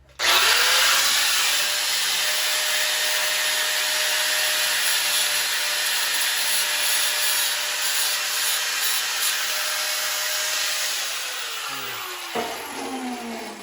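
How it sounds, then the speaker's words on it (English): An angle grinder sanding an inside corner of a metal workshop part, a loud, continuous close-up whine that holds steady for several seconds and then winds down at the end. "I'm going with the grinder, because I can't get that corner up in there."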